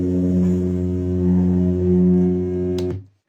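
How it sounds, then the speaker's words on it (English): A low, steady electrical hum from a film projector motor drones with slight swells in loudness, then cuts off abruptly with a click near the end. "This is the projector motor hum."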